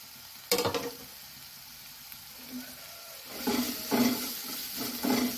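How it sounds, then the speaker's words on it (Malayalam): Onion, ginger, green chili and garlic sautéing in a pan for egg cutlets, a soft background sizzle marked by a few louder stirring bursts and clatters spread across the clip. "ഇതെല്ലാം നമ്മൾ അരിഞ്ഞു വെച്ചതെല്ലാം കൂടെ ഇതിൻ്റെ അകത്തേക്ക് ചേർത്ത് നമുക്ക് വഴറ്റി കൊടുക്കാം"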